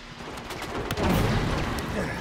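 Gunfire rattles in the action video game Uncharted 2, a dense run of loud shots and impacts building in the middle of a noisy combat scene.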